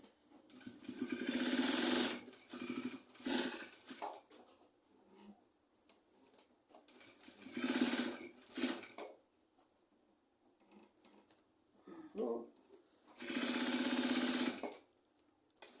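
A sewing machine stitches a round shirt collar in three separate runs, each a few seconds long with a bright mechanical whir, close and clear, with quiet pauses and small handling sounds between them.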